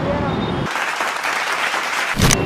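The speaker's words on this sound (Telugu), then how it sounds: "క్లాప్స్ బా." A group in a quiz session claps for a correct answer, a short burst of dense hand clapping between stretches of a nearby voice talking.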